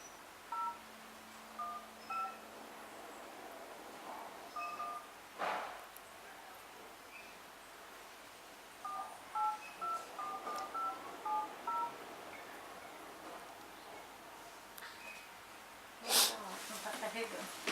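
Telephone keypad dialing tones beep in short sequences while a call is placed, several separate bursts of tones spread through the clip, with soft handling noises and a voice talking quietly in between.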